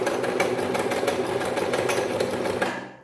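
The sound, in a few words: sewing machine stitching a zigzag pattern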